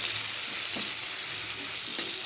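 Fish shallow-frying in hot oil in a home kitchen, a steady dense sizzle with faint crackles, close and continuous with no talking.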